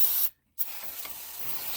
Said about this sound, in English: now I'm going to clean it down with some brake cleaner.